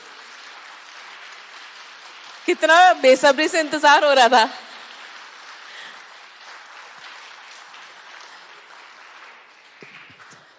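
An audience bursts into a short round of loud applause lasting about two seconds, with a speaker talking before and after it.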